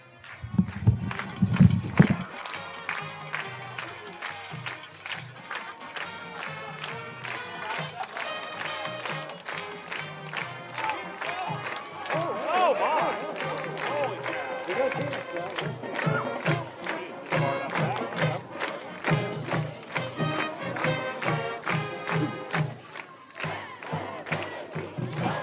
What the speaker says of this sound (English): here come the Bombers as the crowd rises to their feet